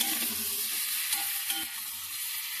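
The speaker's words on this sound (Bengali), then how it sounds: "এবার নাড়াচাড়া করে নিচ্ছি" Egg curry masala with boiled potatoes is stirred in a pan, with a soft continuous frying sizzle and faint spatula scrapes, quiet and without voices.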